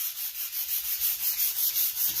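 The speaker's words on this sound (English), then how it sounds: "I'm just going to rub it across this paint. And it acts as a sandpaper." A sheet of computer paper rubbed back and forth over dried paint like fine sandpaper, giving a steady rhythmic scratchy swish, close and even, with no voices.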